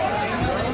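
Dense crowd chatter fills a busy wholesale fish market in Malad, Mumbai, a steady close hubbub of many overlapping voices with no single speaker standing out.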